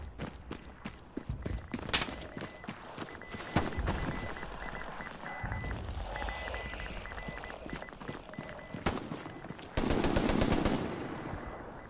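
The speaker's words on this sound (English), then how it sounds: "I'm hearing east, gunfire getting shot from the northwest." Rapid machine gun bursts and scattered gunshots in a war video game, near and loud, mixed with running footsteps and a louder rumbling burst near the end.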